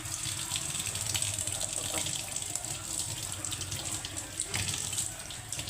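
Clean water pouring from a tap into a vessel while mutton is washed, a steady close gush with brief splashes and clatter as the water is tipped out.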